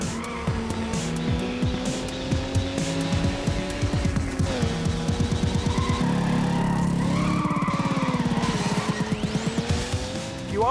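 Race car engine in a driving video game, revving through gear changes with repeated tire squeals and skids, loud and continuous with no speech.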